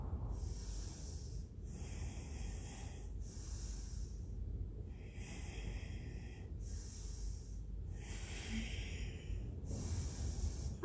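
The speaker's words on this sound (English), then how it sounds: "start breathing for 4" Slow controlled breaths during a yoga-pilates plank, with airy inhales and exhales in a steady paced rhythm, faint and close in a quiet room.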